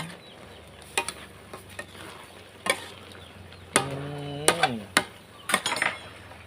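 Fish balls stir-fried in a pan with Thai basil leaves: scraping stirs and sharp metallic clinks of a utensil against the pan come in irregular bursts over a low, steady sizzle, close and fairly quiet.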